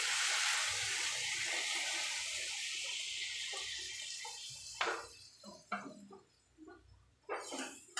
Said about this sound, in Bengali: এবার জল দিয়ে দেবো অল্প করে